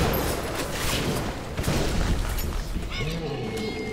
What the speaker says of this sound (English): Grenade to the face, grenade to the face.